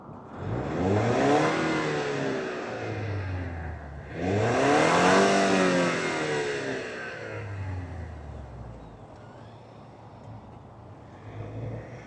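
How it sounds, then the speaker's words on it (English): A 2025 Lexus IS 300 turbo four-cylinder engine revs up twice in strong, rising sweeps, then settles back to a steady idle with a smaller blip near the end. "why don't we fire up this 4-banger turbo and hear what it sounds like"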